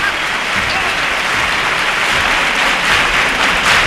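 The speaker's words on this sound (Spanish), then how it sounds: "ya oyen los aplausos de este público" Theatre audience at the Gran Teatro Falla in Cádiz applauds a carnival choir's semifinal performance, dense and steady clapping that sounds like heavy rain, loud and sustained throughout without a break.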